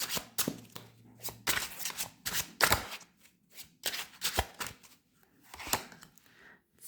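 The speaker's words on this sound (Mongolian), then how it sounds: "Энэхүү картнаасаа сонголтын картуудаа гаргаж ирцгээе" Tarot cards are shuffled and drawn from the deck in close, crisp riffling bursts and slaps of card against card, in irregular clusters with short pauses and no voices.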